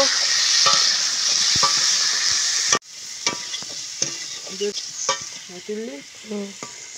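Chili powder stirred into a frying prawn and cauliflower curry in a pan, a loud sizzle that abruptly drops to quieter frying, then repeated close scraping strokes of a spoon against the pan.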